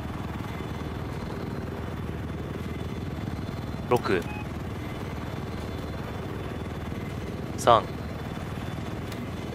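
A helicopter goes down in the Battlefield 4 video game, heard as a steady engine drone under a man's speech, broken by two short, sharp bursts.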